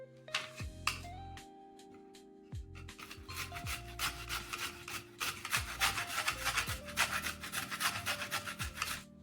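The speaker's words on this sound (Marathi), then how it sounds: "अर्ध्या खोबऱ्याचे आता मला खिस करून घ्यायचं आहे" Half a coconut is grated by hand in a kitchen, producing repeated close rasping scrapes in quick rhythmic strokes, with background music playing throughout.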